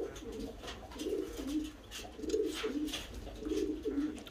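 Sick fancy pigeon with a cold cooing in soft, repeated rounds about once a second, each low throaty coo close and fairly quiet, with no talking over it.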